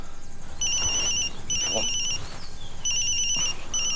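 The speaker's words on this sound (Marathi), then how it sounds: "हो अण्णांचाच फोन आहे." A phone rings with a repeating electronic chirp in short bursts, clear and fairly close, with no one speaking.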